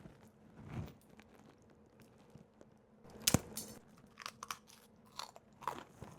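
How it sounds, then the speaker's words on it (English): Someone bites into crunchy homemade brownie brittle, with a sharp, close crack followed by several smaller crunches of chewing. The mouth noises are loud and clear against a quiet background. "I need you to hear the crunch of this brownie brittle."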